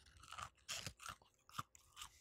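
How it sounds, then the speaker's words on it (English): Crunchy fried onion breading on a Whataburger fast-food burger chewed close to the mic, a few separate crisp bites and chews across two seconds, with no talking. "it's got like a good crunch to it"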